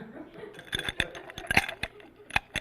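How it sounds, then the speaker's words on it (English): Ice cubes clink and rattle into a glass in a quick, irregular series of sharp bright taps, close up, with a faint voice in the background. "So I'm filling the glass with ice for our radio listeners."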